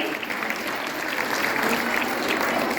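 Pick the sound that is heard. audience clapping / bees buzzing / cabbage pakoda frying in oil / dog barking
audience clapping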